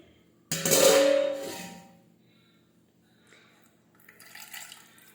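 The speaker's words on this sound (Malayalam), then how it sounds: "ഇനി ഐസിലേക്ക് വെള്ളം ഒഴിച്ച് കൊടുക്കാം." Water pours from a bottle onto ice for lime water in a short loud burst that tails off, followed by quieter trickles and light clinking.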